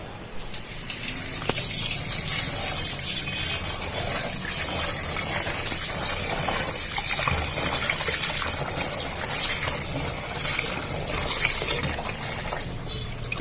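Bitter gourds are washed under running water, a loud, continuous close gush and splash of a tap that stays steady throughout.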